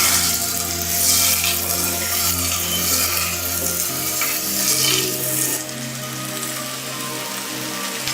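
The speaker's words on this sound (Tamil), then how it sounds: "இப்போ இது நல்லா வதங்கட்டும்." Green chilli and tomato sauté in a hot pan with a loud, close, continuous sizzle and occasional stirring scrapes, an underlying hum steady beneath it and no talk.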